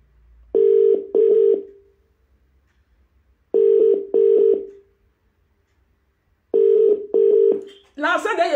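Telephone tones sound three times as loud, clean double beeps spaced a couple of seconds apart, close and clear. A voice briefly follows at the end.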